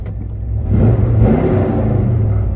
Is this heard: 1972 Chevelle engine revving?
yes